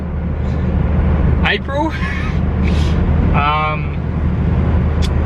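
A Mazda MX5 drives along with a steady low engine and road rumble, heard from inside the car while a person talks over it.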